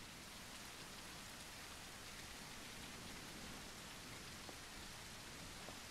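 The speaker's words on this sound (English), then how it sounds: "That rain being so heavy." Heavy, steady rain in the video game SurrounDead pours down without a break, a dense hiss of drops filling the whole scene with no voices.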